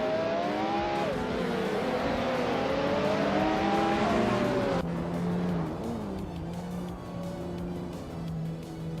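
A 1993 McLaren F1 supercar races in a video game, its engine whining and rising through the gears, then dropping to a lower steady drone as it shifts, loud and close with faint tire noise.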